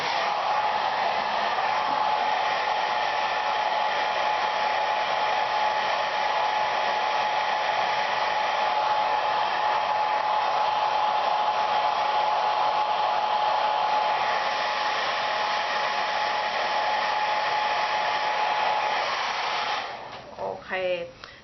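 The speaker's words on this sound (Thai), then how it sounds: "แล้วก็เอาไดเป่า" A hair dryer blows steadily on curled, permed hair, a loud continuous whir held for about twenty seconds before it cuts off with some rustling at the end.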